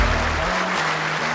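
A standing indoor bowls crowd at the World Indoor Bowls Championship applauds in a steady, dense wash of clapping that carries evenly through the whole moment.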